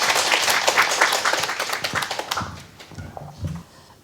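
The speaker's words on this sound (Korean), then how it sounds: "저희 박수 한번 더 보내드리겠습니다" Audience applause after a presentation at a 2021 results-report event, dense clapping from many hands that starts loud and thins out toward the end, with a few scattered final claps.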